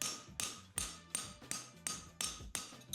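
Hammer blows flatten an aluminium heart bar, eight sharp metallic strikes landing in an even rhythm at close range, each ringing briefly before the next.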